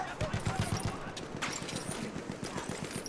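Rapid machine-gun fire in a Battlefield 1 multiplayer match, a steady burst of repeated shots running through the whole stretch at moderate distance, with a voice talking over it.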